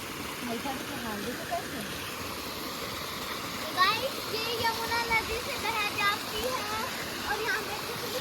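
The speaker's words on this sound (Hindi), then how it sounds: "यहाँ देखो सड़क में चलता फिरता वाटरफॉल बन चुका है" Rainwater pours down a road like a waterfall in the evening, a steady broad rushing wash throughout with occasional splashes and distant voices faintly heard underneath.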